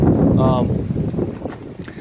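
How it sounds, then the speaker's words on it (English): Gusty wind buffets the microphone with low rumbling bursts, while a person talks through it. "it's very windy right now, so hopefully you guys can hear"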